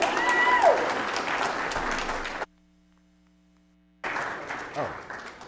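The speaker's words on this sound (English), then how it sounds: "go ahead and give them a round of applause." An audience at a school board meeting claps in a room, the applause cutting off abruptly into near-silence with a faint hum, then resuming for a final stretch.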